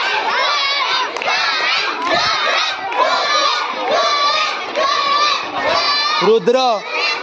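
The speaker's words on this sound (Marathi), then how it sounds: "रुद्र असे ओरडताय सगळे." A crowd of schoolchildren shouts and cheers continuously and loudly during a game at a school annual sports day, with a brief shrill cry near the end.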